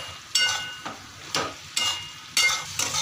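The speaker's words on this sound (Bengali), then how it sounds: "এখন সয়াবিন ঢেলে দেবো।" Soybean chunks are stirred into a spice paste frying in oil, making bursts of sizzling hiss that rise and fade with each push of the spoon, close and moderately loud.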